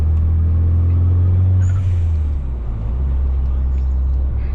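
A Mitsubishi Eclipse GS-T cruising gently puts out a loud, low engine drone and road rumble, holding steady before easing slightly in pitch partway through.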